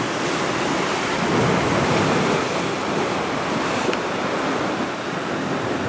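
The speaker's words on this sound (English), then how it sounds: "Waiting for the wave, like a big wave to hit that rock up there." Heavy surf crashes against rocks on the Oregon coast at Devils Churn, a loud continuous roar of breaking waves and spray mixed with wind buffeting the microphone, with no talking.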